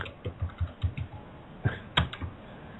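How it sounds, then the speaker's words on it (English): Keyboard keys hammered hard during an open online forum, about a dozen loud irregular clacks in quick bursts with a pause between, close to the microphone and with no talk over them. "please mute if you're going to be banging on a keyboard, because it's really loud on my end"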